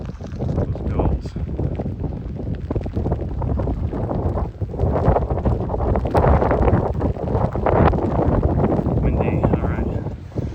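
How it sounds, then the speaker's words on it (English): Strong wind buffets the microphone in loud, rumbling gusts throughout on a hike in the Coskata-Coatue Wildlife Refuge on Nantucket, with a voice occasionally audible beneath the roar. "It's pretty windy once I get up into this middle ground"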